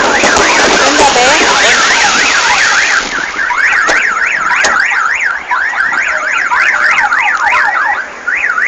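A nearby car alarm blares a loud, continuous warbling siren, its pitch rising and falling rapidly, while fireworks pop and bang outside a large shopping mall.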